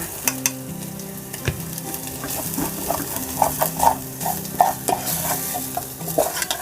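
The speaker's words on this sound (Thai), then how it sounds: "ผัดให้หอมเลยค่ะ ตามด้วยผงพะโล้นะคะ" Garlic and coriander root stir-fry in a hot pan with five-spice powder, giving a steady sizzle broken by repeated clicks and scrapes of the spatula against the pan, with no talking.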